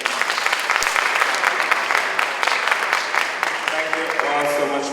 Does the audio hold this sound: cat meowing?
no